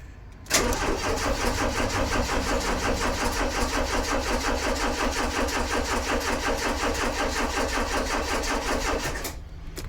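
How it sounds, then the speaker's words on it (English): A petrol Citroën BX engine cranks briefly, then catches and runs steadily with a dense mechanical clatter for about nine seconds before cutting off, close and fairly loud with no voices. "Let's keep cranking and see what it does."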